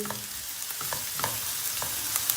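Onions sauté in a pan with a steady, soft sizzle close by, broken up by the light scrapes and taps of stirring.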